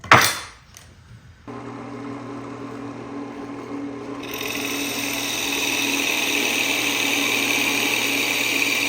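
A brief knock, then a drill press motor starts and hums steadily, rising in pitch and intensity as it bites into wood and keeps running.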